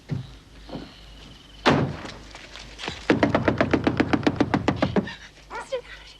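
A door thuds shut indoors with a single solid knock, set among dramatic dialogue as voices speak loudly just afterward.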